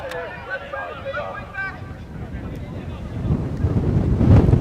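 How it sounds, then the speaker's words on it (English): Evening wind gusting across the microphone at a Long Island soccer match, low rumbling buffets that grow stronger toward the end, following a commentator speaking. "we got a decent gust at times here this evening in Long Island"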